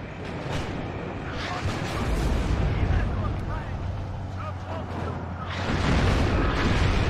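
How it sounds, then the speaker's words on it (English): In the real-time strategy game WARNO, Leopard tanks and other units fire in a big battle, giving a dense, continuous rumble of booms and explosions with someone talking over it throughout. "Leopard 101's now firing away."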